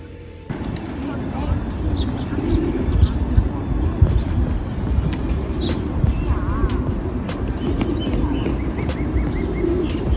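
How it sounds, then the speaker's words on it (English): White albino pigeons coo in a busy Shanghai square, soft throaty calls and chirps set against steady crowd noise and passing traffic, with people talking nearby throughout. "They got white albino pigeons"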